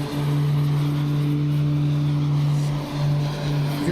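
Twin propeller engines of the Black Square Baron in Microsoft Flight Simulator, a loud steady drone with a strong flanging, phasing sweep that rises and falls, continuous and alone.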